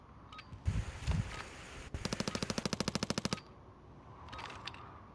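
Gunfire in Call of Duty: Modern Warfare, with a couple of heavy single shots followed by a rapid, evenly spaced automatic burst of about twenty rounds, loud and close, then quieter distant shots.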